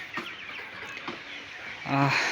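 Fayoumi chickens cluck in short bursts near the recorder, with a louder squawk near the end and faint outdoor background noise.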